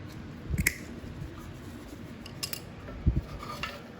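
Two crisp snips cut through an old pull cord on a 2004 Weedeater 20-inch mower with a Briggs & Stratton Classic engine, one early and one later, close and fairly quiet against a soft background.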